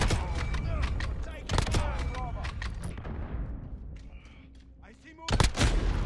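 Rapid gunfire bursts and sharp shots from the video game Modern Warfare crackle in quick succession, dropping off into a lull before another loud burst near the end.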